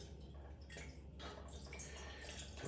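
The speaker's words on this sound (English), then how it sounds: "So fill this up with water right here." Water poured into the tray of an Iwatani grill attachment, a steady broadband splashing and trickling that runs evenly through the whole short stretch at close range, with no talking.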